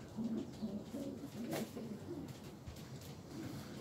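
Young pigeons in the nests of a loft, cooing softly and repeatedly in low murmuring calls, faint and close, with no talk.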